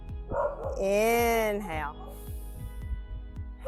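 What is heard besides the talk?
dog barking as a UPS truck drives by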